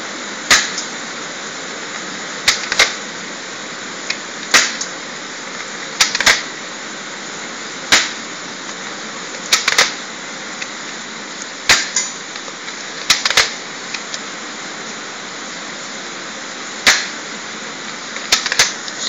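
An airsoft FAMAS G1 spring rifle is fired outdoors at a metal gate, and each shot lands as a sharp, isolated crack at irregular intervals, about a dozen in all, over a steady hiss of rain.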